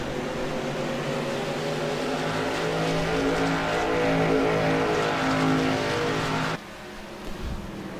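Race car engines roar continuously at Richmond in a sim racing sprint series, a loud sustained drone with layered harmonic whine that cuts off sharply near the end to a quieter rumble.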